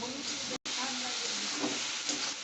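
Onion with garlic paste and ginger paste frying in hot oil, a steady broadband sizzle that runs continuously with a brief dropout, stirring noises mixed in.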